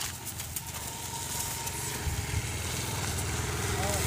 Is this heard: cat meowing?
no